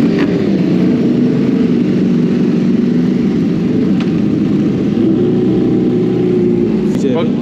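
A big bike motorcycle revs hard and pulls away, its loud, steady engine roar close by and filling the whole stretch without letup.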